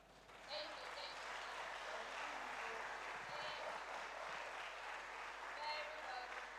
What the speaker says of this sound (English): can we, with a standing ovation and round of applause, give it to Prof.